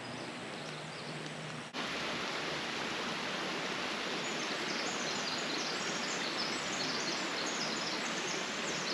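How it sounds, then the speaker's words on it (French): A forest stream flows with dense, steady rushing water noise that swells louder after a brief quieter start, with no voices. "Il boit de l'eau du ruisseau."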